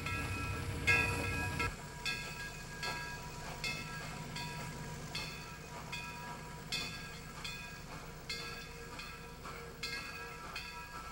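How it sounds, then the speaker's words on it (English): A Santa Fe Fairbanks-Morse diesel switcher locomotive rolls past a Chicago station, with a low engine rumble and regular clicking of wheels over rail joints, steady and moderately distant. "another Santa Fe Fairbanks Moore switcher moves by."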